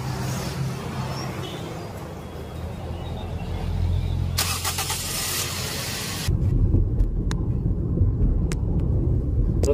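A Toyota Vios with a hard-starting, jerking fault starts up: a low engine rumble rises, a brief burst of noise follows, and the engine settles into a steady, close idle.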